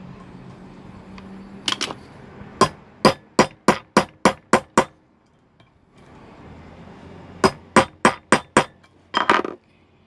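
Metal hammer strikes fix a snap button onto a boot zipper resting on an iron base, two sharp rapid bursts of about six to eight ringing taps each, close and loud over a quiet background.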